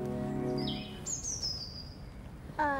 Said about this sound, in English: Feeding the garden birds.